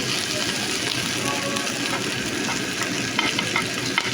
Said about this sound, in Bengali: এবার আমি পেঁয়াজ এবং জিরাগুলোকে ভালো করে ভেজে নেব